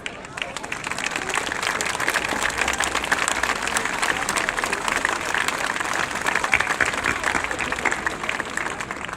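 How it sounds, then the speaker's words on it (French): Crowd applause for international folklore groups at a festival parade in Fribourg, a dense, steady wash of clapping that holds at full strength throughout, with voices faintly mixed in. "On peut les applaudir encore une fois."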